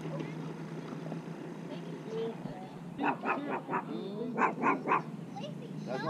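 Several short dog barks at a riverbank during catfish fishing, arriving in two quick bursts of about three each, fairly close, over steady low background noise.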